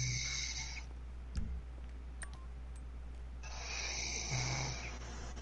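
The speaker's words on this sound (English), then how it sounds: "You hear him snoring?" A man's snoring forms a steady low roar over a game session, with electronic chimes and short tones overlaid and a brief thump near the middle.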